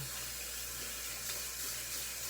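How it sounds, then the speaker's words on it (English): Tap water runs steadily into a sink while makeup brushes are rinsed and scrubbed under the stream, a constant soft hiss at moderate level with no talking. "Kind of just scrub until the water runs clear."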